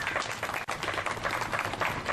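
Applause from a crowd at an outdoor Bill of Rights Day rally in Boise, Idaho: steady dense clapping throughout, close and loud, with one brief dip partway through.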